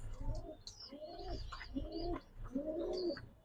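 A pair of all-white Damascene pigeons coos close by in several soft, throaty rising calls, one after another, with faint chirps in the background.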